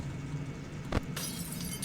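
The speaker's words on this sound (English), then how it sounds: "Ah, you hear the light bulb shatter?" A light bulb shattering in the horror video game Five Nights With Froggy 2: a single short crack of breaking glass midway, followed by a brighter glassy hiss, over a steady low hum.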